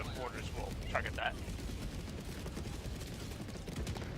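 A Gatling barrage pounds away in Helldivers 2, a steady, dense rumble of rapid distant gunfire running the whole time, with a brief voice speaking over it near the start.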